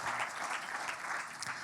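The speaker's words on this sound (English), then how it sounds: "Big applause" Steady, dense applause from a startup-pitch audience at a health tech chronic disease management finals, with many hands clapping together for the whole stretch without pause.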